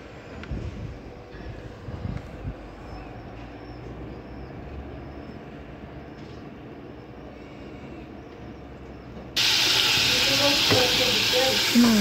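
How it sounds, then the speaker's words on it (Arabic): Chicken and meat frying in a pan for a Constantine-style meatball or grilled-meat tajine, a steady hiss and sizzle that becomes much louder and brighter near the end, with no talking. "كما راكم تلاحظوا هنايا نقلي في هذاك الدجاج واللحم"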